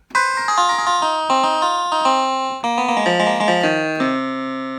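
A bright, plucky clavinet preset on a Livingstone DM650 electronic keyboard plays a quick sequence of notes and chords, clean and close, with no voices.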